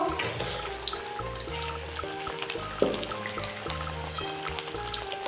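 Ring-shaped potato slices fry in a pan over low gas, giving a steady, soft hissing sizzle that continues throughout with faint tonal sound underneath.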